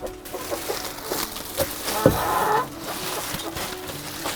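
Chickens cluck softly in short, scattered bursts nearby, with a brief louder squawk partway through.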